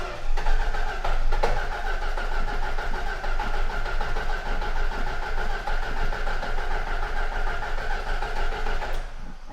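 A car engine cranks continuously for several seconds with a steady, rapid chugging rhythm, failing to catch, then stops abruptly.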